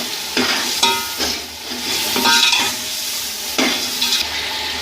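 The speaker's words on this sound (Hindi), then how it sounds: "अब मसाले में 1 किलो मटर डालेंगे।" Green peas being stirred into sizzling masala in a pot for matar pulao, loud close frying with repeated scraping stir strokes at an uneven rhythm.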